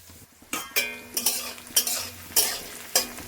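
A utensil stirs and scrapes spices in a pan as chicken fries, with several distinct clanking strokes over a low sizzle, close and fairly quiet.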